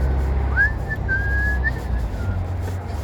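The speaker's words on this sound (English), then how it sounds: "I started whistling." A person whistles one short, wavering high note for about a second and a half, alone and fairly clear over a steady low background hum.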